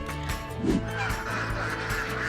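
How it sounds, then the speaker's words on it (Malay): A flock of some 750 egg-laying ducks at a duck farm quacks continuously, a dense, overlapping chorus of nasal calls close by, with a faint voice beneath. "Wow, banyak sekali itiknya. Ada 750 ekor semuanya."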